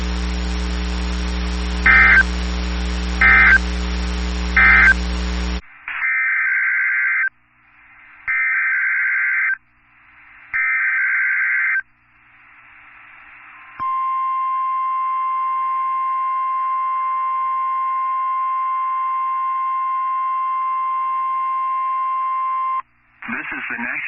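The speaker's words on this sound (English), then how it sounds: "The preceding signal was a test of the NOAA Weather Radio Warning Alarm device" A NOAA Weather Radio warning alarm test from the National Weather Service in Mobile, Alabama: a buzzy broadcast segment gives way to several short tone bursts, then a long steady alarm tone held for about nine seconds, loud and clear.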